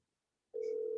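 A phone call rings out while waiting for someone to answer: a steady, loud ringback tone begins abruptly halfway through and holds unbroken to the end, with silence before it.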